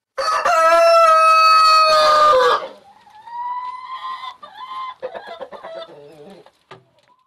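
A rooster in a backyard coop where laying hens are kept crows loudly and at length, then hens cluck and chatter close by in short, uneven bursts.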